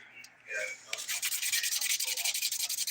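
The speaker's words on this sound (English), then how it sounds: "I'm going to flip my file to the 100 grit side to get into the sidewall there." A nail file, flipped to its coarse 100 grit side, rasps along the sidewall of a fingernail during a dip manicure, a close, steady series of quick scratchy back-and-forth strokes after a brief pause.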